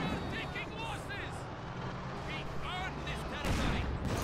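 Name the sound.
mortar shell fire in Company of Heroes 2 video game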